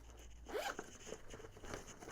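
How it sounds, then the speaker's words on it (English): A handbag's recessed zipper is pulled along its track in one quick rasping run, followed by softer intermittent scratchy zipper noises, close and fairly quiet. "a recessed zipper."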